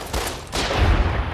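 Pistol fire from the video game Fallout: New Vegas, a few loud sharp cracks close together that blur into a dense burst, with no talking.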